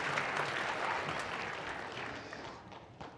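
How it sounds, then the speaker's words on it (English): An audience at an elementary school grades 1 and 2 evening program claps for a teacher, a wash of applause that starts full and gradually fades away over a few seconds. "Let's give her a big round of applause for all her energy."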